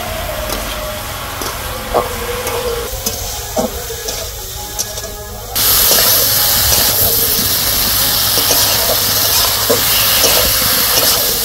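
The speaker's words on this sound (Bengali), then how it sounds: "নাড়াচাড়া দিয়ে একটু কষাই নেব।" Okra and shrimp stir-fry in a pan with a continuous loud, hissing sizzle that jumps sharply in intensity halfway through, with faint scraping clicks scattered throughout.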